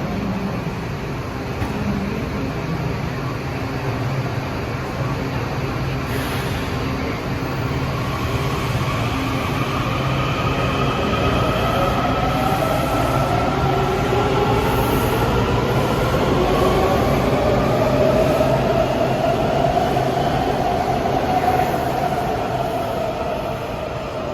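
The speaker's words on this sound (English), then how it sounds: "Here's a Shady Grove train arriving" A Washington Metro Red Line train bound for Shady Grove arriving at a station, a steady rumble with rising and falling motor whine and faint wheel squeal building over about twenty seconds, no voices.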